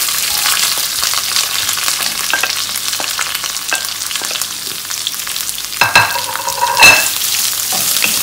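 Sliced large onions frying with curry leaves in a pan sizzle steadily and loudly up close, broken by scraping stirs and a few crackling pops toward the end.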